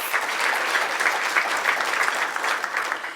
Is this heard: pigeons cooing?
no